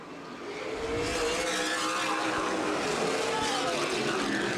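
Race cars roar around Anderson Speedway during the CRA Super Series Redbud 300, a dense continuous engine drone of a pack racing for position, rising as the field passes, with a commentator talking over it.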